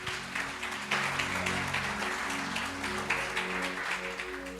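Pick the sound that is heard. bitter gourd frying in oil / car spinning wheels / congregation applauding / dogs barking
congregation applauding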